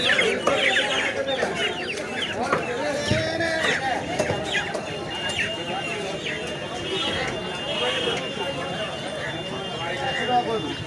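Busy Kolkata market din with live chickens clucking and squawking among many overlapping voices and general crowd bustle.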